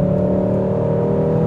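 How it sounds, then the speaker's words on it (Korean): A Hyundai Sonata N Line (facelifted DN8 Edge) accelerates from inside the cabin, its exhaust and engine making a steady, droning hum that is loud and even throughout, with no voices. "배기음이 생각보다는 약한데?"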